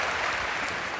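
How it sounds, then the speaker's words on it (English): Audience applause at a live onstage conversation event, a dense, steady wash of clapping filling the whole second, loud and close with no talk over it. "I love people who are applauding grocery stores."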